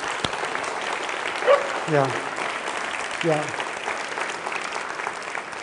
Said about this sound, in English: huge round of applause for family